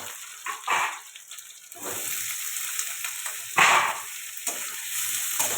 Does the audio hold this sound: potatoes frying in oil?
yes